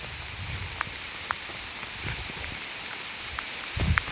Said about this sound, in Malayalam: നല്ല മഴയാണ് കേട്ടോ, നല്ല മഴ